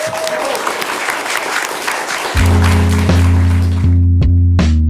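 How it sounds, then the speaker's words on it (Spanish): Dense clapping from an audience fills the first half, then a loud low hum and music-like tones take over as the applause fades. "vamos a pedir un aplauso."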